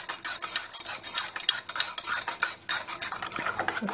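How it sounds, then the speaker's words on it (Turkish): A spoon stirs heaped coffee and sugar in a cup, a close, steady run of quick metallic clinks and scrapes against the cup's sides, heard alone without any talk. "Şöyle bir karıştırıyorum hemen"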